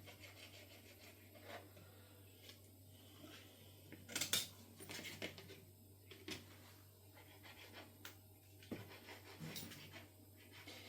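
A knife slices the rind off smoked bacon on a kitchen board, making soft rasping, scraping strokes in an uneven rhythm with a few sharper clicks, close up and fairly quiet, with no talking.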